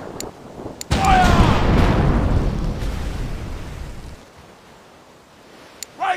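Pirate ship cannons fire in The Pirate: Caribbean Hunt during a storm, one heavy, loud boom rolling into a long rumbling wash of noise that slowly fades, with a sharp pop near the end.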